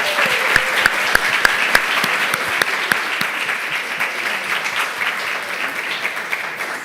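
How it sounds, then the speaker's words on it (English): An audience at a festival session gives a round of applause, with sharp claps standing out early over a steady wash of clapping that gradually fades. "One more time, a round of applause for Tyrese Schuster."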